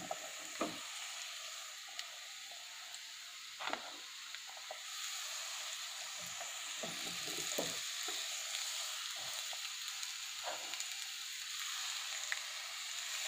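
Green capsicum and cooked onion sizzle in a pan for Maggi masala pasta, a steady close frying hiss broken by occasional scraping stirs, with no one speaking.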